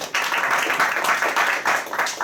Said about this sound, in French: Je vous demanderai également de l'applaudir.